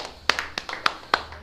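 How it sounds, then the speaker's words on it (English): A single person claps their hands several times in an uneven rhythm, each clap sharp and distinct at close range in a quiet room. "Can you clap your hands for me?"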